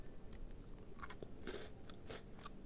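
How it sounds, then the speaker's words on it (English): Someone chewing and crunching on food, apparently a Korean snack, during a live stream of the game Lies of P, with close, moist bites and crunches over steady game background noise. "hearing me chew right now, it's kind of satisfying"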